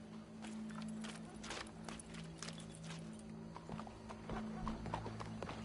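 Horse hooves clip-clop in an irregular walking rhythm in Red Dead Redemption 2, fairly faint and close, with a low steady tone and a few game sounds underneath.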